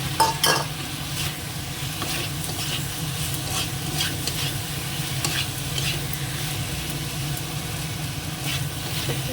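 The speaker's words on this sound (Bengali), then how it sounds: "মশলাটা ভালো করে কষানো হয়ে গেছে এবার পটলটা দিয়ে দিচ্ছি" Pointed gourd hits a pan of well-cooked spice paste and is stirred, giving a steady close sizzle and frying hiss with scraping stir strokes and a louder burst at the start.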